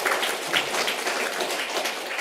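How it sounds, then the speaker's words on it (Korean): Church congregation applauding to welcome a new member during a Sunday service, a steady wash of clapping at moderate volume with no talking over it. "우리 힘차게 박수로 격려하겠습니다"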